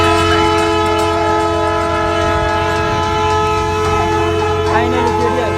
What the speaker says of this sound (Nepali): रेल कुद्दैछ